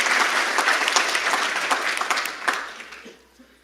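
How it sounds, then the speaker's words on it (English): Keynote audience applauds across a large hall, a dense wash of many hands clapping at full strength before thinning and fading out over the last second. "I want to give an applause and thanks to all of our partners"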